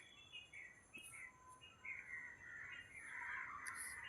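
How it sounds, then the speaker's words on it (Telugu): Many kinds of birds, crows among them, chirping and calling at dawn, with scattered high tweets and a rising chorus of calls in the background, fairly faint and without speech. "చూడండి, అనేక రకాల పక్షులు కిలకిలలో."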